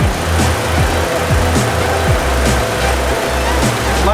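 Chevy Aveo engine idling steadily with the AC compressor constantly engaged, a close, even mechanical hum with a regular rhythmic pulsing throughout.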